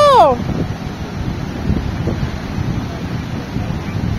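Wind and waves on the sea shore at Puri, constant rushing wind buffeting the microphone over a low, steady surf roar, opening with a short high whistle-like tone.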